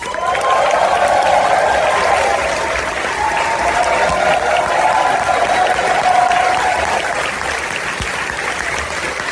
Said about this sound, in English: a big round of applause to welcome back the directors